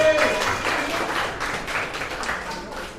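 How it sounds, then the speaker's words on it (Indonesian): A high school class claps together in a classroom, a short burst of close, uneven hand claps with some voices mixed in, fading after about three seconds. "Tepuk tangan buat kita semua."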